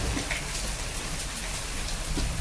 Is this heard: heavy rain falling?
yes